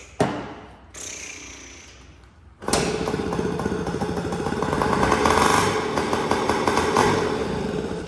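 Small dirt bike engine, a Yamaha PW50 or Suzuki JR50, firing on starting fluid: a brief catch and stutter, then after a pause a loud, steady buzzing run close by that continues to the end.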